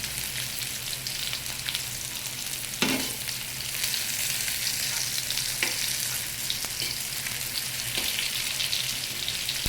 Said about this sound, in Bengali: এভাবে লালচে করে করলাটা একটু ভেজে নেবেন